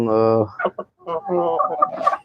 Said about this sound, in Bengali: আমার যে মোরগগুলো রয়েছে প্লাস মুরগিগুলো রয়েছে